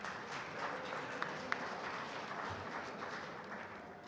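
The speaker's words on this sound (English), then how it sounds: "If you want to clap, clap." A conference audience at an annual general meeting claps together in a steady, moderately distant ripple of applause lasting a few seconds.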